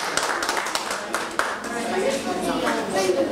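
Audience clapping at a school diploma ceremony for DELF exam graduates, a moderate round of hands with a few sharp individual claps standing out, voices talking underneath.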